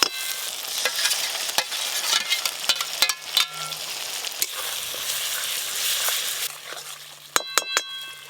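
Grated tomato goes into a frying spice masala in the pan of a fish curry, and a steady close sizzle follows. A spoon stirs and clinks against the pan again and again in irregular bursts, with no talk.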